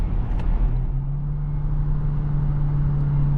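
An Acura ADX A-Spec revs with a synthetic engine sound piped into the cabin, a steady droning tone that rises and then holds over a low road rumble, heard from inside with no talk.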